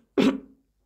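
A single short, hoarse cough, close and dry, followed by silence.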